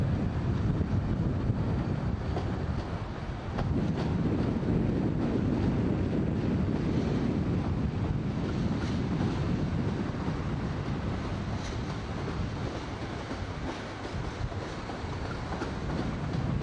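British Rail HST with Intercity Executive power cars and blue-and-grey coaches passes at Edinburgh Waverley, a steady loud rumble with continuous clickety-clack of wheels over rail joints and some wind buffeting, no talk.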